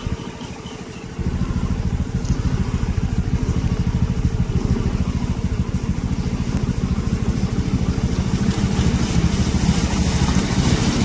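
A motorcycle engine revs and churns steadily, its dense rumble mixed with rushing, splashing water as it pushes through rain flood water on a street in Jaffna, loud and close without speech.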